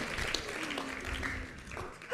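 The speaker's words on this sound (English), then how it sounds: "Give yourselves a huge round of applause" An audience at a live talk event gives a round of applause, a brief spell of moderate clapping that rises again at the end.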